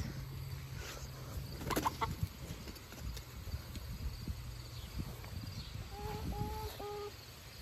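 Backyard chickens cluck softly at middle distance among garden sounds, with a few brief calls toward the end and insects buzzing faintly behind.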